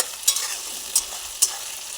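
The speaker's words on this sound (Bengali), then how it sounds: "পেঁয়াজ রসুনটা ভালোভাবে যখন ভাজা হয়ে যাবে," Chopped onion and crushed garlic fry in a pan with a soft, steady sizzle, punctuated by three sharp scraping stirs of a utensil at intervals.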